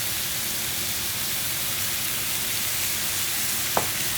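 Mushrooms cooking in white wine in a pan, a steady hissing sizzle throughout with one brief clink near the end.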